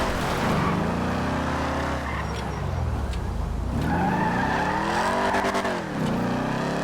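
Car in a video game, driven with a custom controller, skids continuously, its engine whining up and down in pitch with tire scrub throughout.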